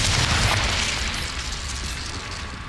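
A Confringo blasting spell goes off in the Hogwarts Legacy video game, a heavy booming explosion with a deep rumbling tail that slowly fades.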